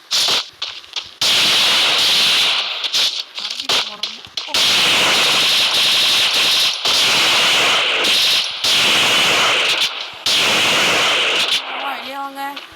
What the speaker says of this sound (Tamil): இப்போ ஹெட்ஷாட் வைக்கிறேன் பாருங்க.